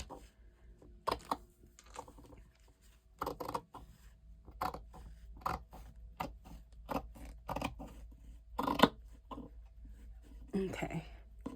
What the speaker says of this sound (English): I'm trying not to cut the fabric. I just want to cut the muslin underneath.